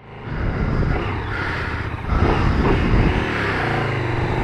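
A 2017 KTM Super Duke GT motorcycle being ridden, its engine a loud, continuous roar close by that swells slightly as it pulls harder midway.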